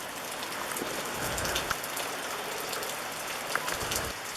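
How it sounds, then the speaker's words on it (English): Steady rain falls with a soft, even hiss, and scattered drops tap nearby surfaces. It is moderately quiet and continuous, and no one speaks. "It's raining."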